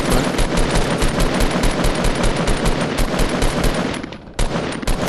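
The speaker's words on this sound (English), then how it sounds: "And some shots" Video game gunshots in rapid automatic fire, a loud, close, steady stream of evenly spaced shots that breaks briefly near the end and then resumes.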